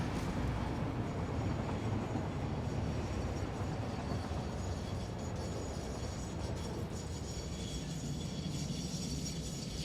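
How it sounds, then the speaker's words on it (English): Trains roll along railway tracks in the video game Satisfactory, a continuous loud rumble with rattling, clanking wagon noise that carries steadily across the whole stretch, no voices. "And we have to wait for all the trains."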